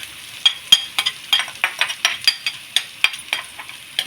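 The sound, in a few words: onions frying and sizzling in a pan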